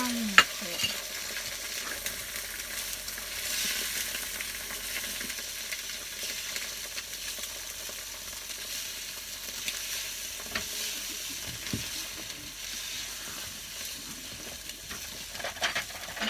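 Eggs are stirred around in a frying pan, giving a soft, continuous sizzle with faint scraping and a few small clicks, quiet and steady throughout with no voices.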